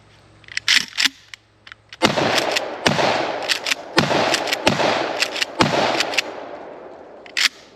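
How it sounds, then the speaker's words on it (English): Five loud, sharp shotgun blasts from a Mossberg shotgun ring out at irregular intervals of roughly a second, each with a brief ringing decay, after a few fainter clicks and handling noises. "I can't imagine this thing being at all comfortable to shoot."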